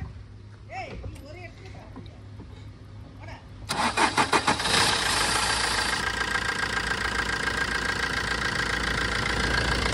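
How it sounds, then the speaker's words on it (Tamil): A Suzuki Swift petrol engine, with its MAP sensor disconnected, cranks briefly and catches, then settles into a steady, fairly loud idle with a rough knocking edge, heard up close after a voice speaks. "இப்போ வண்டி ஸ்டார்ட் பண்ணுங்கள்."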